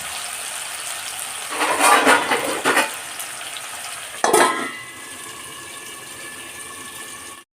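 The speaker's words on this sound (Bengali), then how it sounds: "এবার আমি ঢাকা দিয়ে এটাকে ভাজবো" Food frying in a covered pan, with a steady low hiss throughout and two louder bursts of sizzling and clatter partway through as the lid is handled, then settling back to a quiet sizzle.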